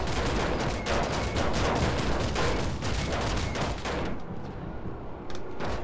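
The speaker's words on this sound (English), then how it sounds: "as you can see, these are actually anti-air cannons, so I need to get the fuck out of this" Anti-air cannon fire from PlanetSide 2, a dense rapid barrage of gunshots and bursts that carries on loudly and continuously, easing slightly toward the end, with no talking.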